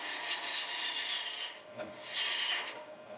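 A turning tool scrapes and cuts wood on a lathe while a pedestal flower spin top is being shaped, giving a steady close rasp that swells and fades in two long passes.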